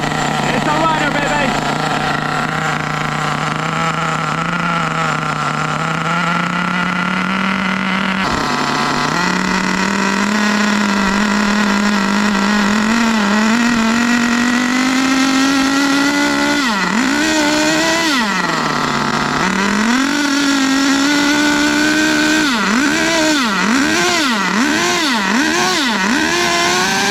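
An HPI Savage nitro RC truck with a scratched engine sleeve runs loud and close, idling with a high buzzing drone before it climbs in pitch and rises and falls through a series of repeated revs.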